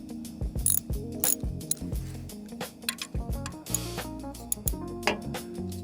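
A ratchet wrench clicks in quick bursts of pawl ratcheting, close and distinct, with short pauses between strokes while working on the oil drain plug of a Subaru Forester XT.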